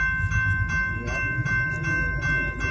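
CSX maintenance-of-way local train led by a GP40 locomotive passing through Hamilton, Ohio, a loud steady rumble with a ringing tonal hum and rhythmic pulsing as cars roll by nearby.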